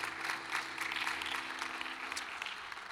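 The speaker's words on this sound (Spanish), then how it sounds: "Un fuerte aplauso a Dios" A church congregation applauds steadily in a dense, even wash of clapping that holds for the whole stretch, with no voices standing out above it.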